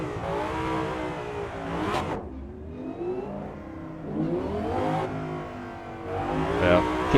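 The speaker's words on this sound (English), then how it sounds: "Car is started." A race car in the Rennsport racing sim revs and accelerates through repeated upshifts, the engine climbing in pitch and dropping at each change, loud and alone.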